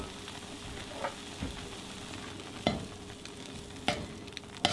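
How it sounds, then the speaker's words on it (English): A spoon stirs mild cheddar cheese into creamy mac and cheese, with a soft, continuous wet churning broken by a few scraping knocks against the pot. "I'm just going to use a spoon and get all this cheese mixed in here"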